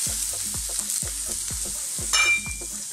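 Ginger, garlic and onions stir-fry in hot oil at high heat for a Chinese beef and green bean dish, a steady close sizzle broken by regular scraping stirs of the pan.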